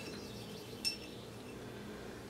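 A drinking glass handled in a bathroom during decluttering gives one faint, brief clink against a quiet background, alone, with no talking.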